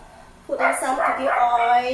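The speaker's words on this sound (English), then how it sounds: "That's my dog who is barking." A dog barks and yips a few times in quick succession while a person talks over it nearby in a kitchen during cooking.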